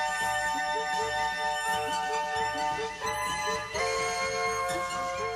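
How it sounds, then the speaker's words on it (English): Synthesized game music from a Roland MT-32 sound module plays for an adventure computer game, with layered sustained tones and a steady, full texture that dips briefly near the middle before continuing. "what a Roland MT32 can do"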